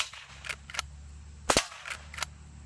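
Sharp, faint .22 LR rifle shots from a Marlin Golden 39A lever action aimed at steel targets, several brief cracks spread across a few seconds with one louder report in the middle, heard outdoors with no talking.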